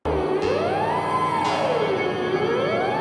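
A siren wails in an animated sci-fi film as alien giants resume hunting humans, a loud continuous tone sweeping slowly up and down over a dense electronic score, with no talk.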